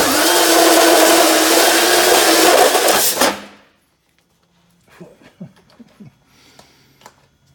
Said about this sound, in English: Let's drill a hole first.